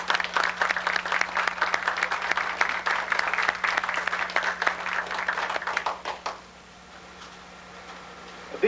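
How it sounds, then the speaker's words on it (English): An audience at a model aviation forum breaks into sustained, fairly loud applause that rings for about six seconds before stopping abruptly, leaving a low, steady hum in the room. "how about giving an applause to everybody that had something to do with it?"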